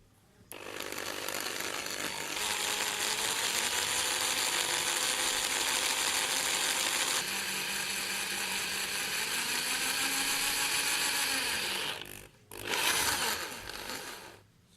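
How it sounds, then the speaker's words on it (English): A variable-speed power drill turning slowly bores into a plastic action camera casing, whirring steadily for about twelve seconds with a grinding mechanical drone, then stops, followed by a short final burst; no talking. "This drilling machine have a variable speed here, so I'm going to go very slow here."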